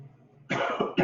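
Two sharp, loud coughs close by, the first longer and harsher, the second a brief burst right after, following a quiet pause.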